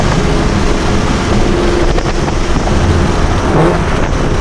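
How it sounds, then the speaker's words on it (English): A V6 Dodge Challenger's engine revs loudly and dips through downshifts as it drives, the exhaust roar steady and close, mixed with heavy wind rush over the microphone. "those downshifts sound amazing"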